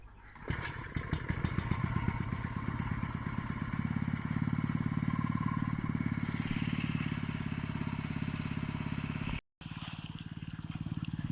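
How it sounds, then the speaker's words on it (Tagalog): An irrigation pump engine sputters to life after a brief moment and settles into a steady, rhythmic chugging that runs nearby, briefly cutting out near the end. "papaandar na ulit ng makina"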